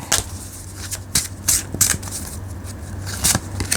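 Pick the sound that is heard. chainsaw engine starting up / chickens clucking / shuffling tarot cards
shuffling tarot cards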